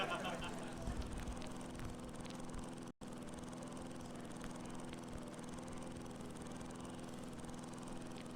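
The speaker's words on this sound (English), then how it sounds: "We're gonna use this lawnmower real quick to toast ourselves." A lawnmower engine drones steadily in the video game I am Bread, a continuous mid-pitched motor hum running throughout with a brief dropout partway, while faint background sounds sit underneath.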